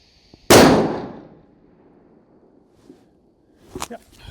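A single loud rifle shot from a .300 Win Mag at a gun range, a sharp crack with a ringing decay, followed by quiet and faint clattering a few seconds later.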